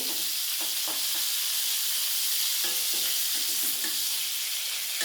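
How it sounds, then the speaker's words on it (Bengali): Whole cumin and black cumin seeds tempering in hot oil in a pan beside pointed gourds, a dense close sizzle with scattered soft stirring taps throughout. "অল্প একটু গোটা জিরে আর কালো জিরে ফোড়ন দেবো"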